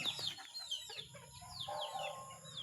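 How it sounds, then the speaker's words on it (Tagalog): Perched chickens clucking and chirping at close range, with a busy mix of short bird calls over a low background rumble. "Ayan na po aking mga manok."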